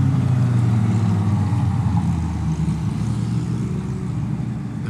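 Lamborghini sports cars cruise down the Pacific Coast Highway in Santa Monica, giving a steady, loud, continuous low engine rumble and road roar with no break and no voices.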